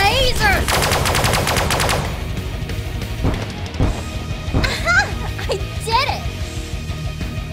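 A laser weapon in the Sunrider space game fires a rapid, loud burst of repeating shots for about two seconds, followed by scattered sci-fi effects and electronic chirps.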